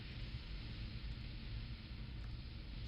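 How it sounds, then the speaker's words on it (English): A glitched ice storm spell in the video game Daggerfall makes a steady, dense roar like heavy rain or rumbling storm noise that holds constant throughout. "I do apologize for that noise from the glitched out ice storm spell"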